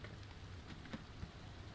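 Rain falling in the Pacific Drive video game, a faint, steady patter of drops with a few soft taps, no voices.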